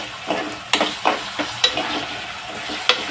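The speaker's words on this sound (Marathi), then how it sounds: "कांदा आणि टोमॅटो एकत्र भाजून घेऊया थोडं." Chopped onion and tomato fry in a pan for a mixed vegetable sabzi, a steady close sizzle broken by several sharp clacks of a stirring spoon against the pan, with no talking.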